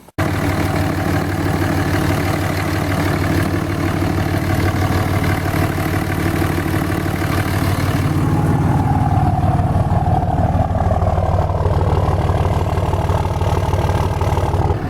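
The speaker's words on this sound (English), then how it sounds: "Time to crank her over and take her for a rip. We'll see how it sounds, how it performs." A Cummins diesel truck engine fitted with a cold air intake runs steadily throughout, a loud, close, deep idle with a dense low rumble and a slight shift in tone partway through.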